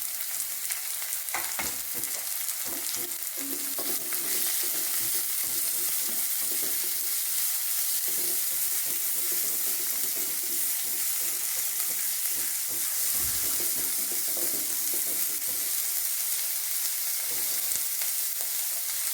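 Onion sizzles continuously in hot oil in a pan, a close, even frying hiss with soft stirring scrapes throughout and no speech.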